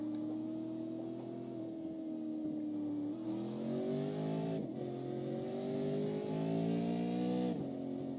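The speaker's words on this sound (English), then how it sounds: "And there goes the pace truck" A pace truck engine in the iRacing sim at Lucas Oil Raceway, a steady harmonic drone that rises in pitch through a couple of gear-like steps as it pulls away, fairly close and continuous with no talk.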